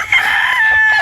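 A brood stag rooster crows once, loud and close, a single sustained call with no talking over it.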